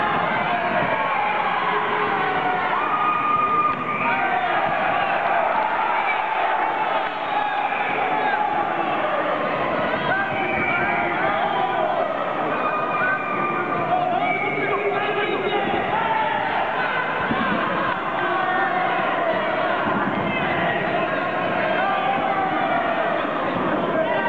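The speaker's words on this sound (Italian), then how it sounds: "continuate sempre ad applaudire questo incontro che rimarrà nella storia del" A crowd at a regional boxing bout in Puglia keeps applauding and cheering through the eighth round, a continuous, loud roar of clapping, whoops and chatter with voices mixed throughout.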